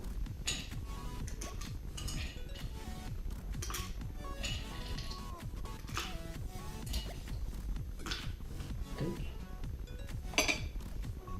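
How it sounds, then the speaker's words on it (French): Ice cubes drop and clink into a glass for a kiwi mojito, giving a steady run of small, close clatters and chinks, with a voice talking over parts of it. "quelques glaçons."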